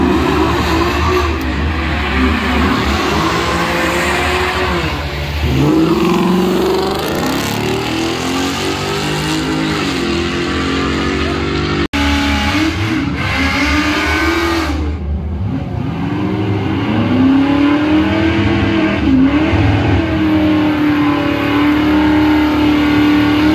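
A Ford Mustang revs and races at Darlington Dragway during Wednesday night grudge races: close, loud engine roar with rising and falling sweeps of revving, a brief cut, then sustained high-rev drone.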